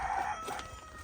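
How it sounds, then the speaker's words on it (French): A rooster crows once at a distance outdoors, a brief hoarse call beside a garage where a sliding gate is being installed. "le coq habituel est là"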